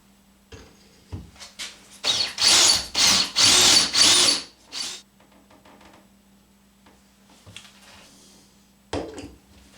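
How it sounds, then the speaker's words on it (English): A power drill whirs in several short bursts, spinning up and down as it drives a screw into a wall for robe hooks, with quieter pauses between the runs. "Let's drill this out."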